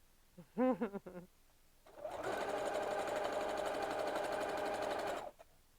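A sewing machine stitches fabric in one steady, close burst of about three seconds, preceded by a short chirping sound, with quiet surroundings.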